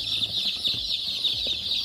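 H&N breed hens in a pen clucking softly, with a steady high insect-like hiss throughout and a few low scattered clucks and rustles, no talking.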